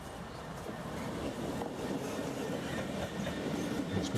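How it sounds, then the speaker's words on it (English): A train near Slateford Station runs over switches and crossings with a steady, rumbling roar of wheels on rail and faint clicking over the joints. The noise is continuous and moderately loud throughout. "And now it's running over S&C Unit 248."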